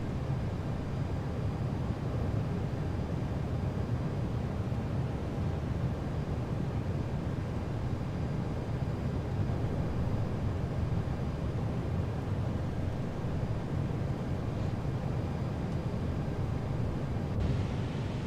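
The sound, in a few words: FlightFactor 757 engines idling in X-Plane 12 flight simulator video game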